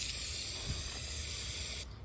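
Foaming degreaser sprayed from an aerosol can onto a car engine during an engine swap, a steady close hiss lasting nearly two seconds before cutting off abruptly.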